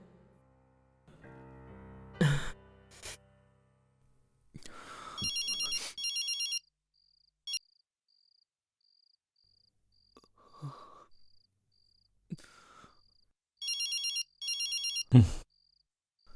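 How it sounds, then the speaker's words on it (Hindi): A telephone rings in a romantic Bollywood film scene, its electronic trilling bursts repeating several times with quiet gaps and a few short thuds and rustles between them, no talking. "फोन उठा यार, फोन तो उठा ले यार।"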